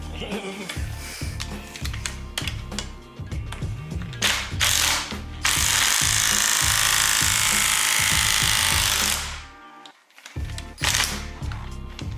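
A ratchet loosens a bolt while air bags are installed on a car, with bursts of rapid close clicking, a long whirring run from a power tool, then more short ratcheting strokes.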